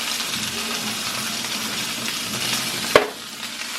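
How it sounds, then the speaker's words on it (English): Rice frying in hot oil in a pan, a steady close hiss of sizzling throughout, broken near the end by a sharp clink before the frying quiets. "So now that I let my oil get hot, I'm gonna put my rice in here"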